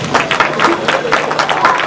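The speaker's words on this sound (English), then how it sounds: "Let's give her a nice round of applause" Audience applause at a junior livestock show, steady dense clapping from a crowd filling the whole stretch without pause, fairly loud and close.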